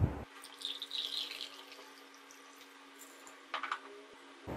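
Homemade nimbu shikanji lemon drink is poured into a glass, making a soft, fairly faint trickling splash that comes in short bursts at the start and again briefly later, close by with no speech.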